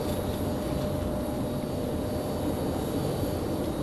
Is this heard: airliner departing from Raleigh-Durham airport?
yes